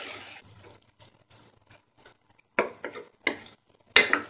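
Chicken keema is stirred into a potato masala in a pan, with soft scraping strokes and quiet gaps, then a few louder scrapes and clatters of the spoon near the end; no talking.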